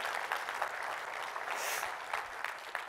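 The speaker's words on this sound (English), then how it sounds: "Can we give Mark Evans a round of applause" An audience gives a steady round of applause for Mark Evans, event organizer, with dense clapping that runs the whole way through at an even level.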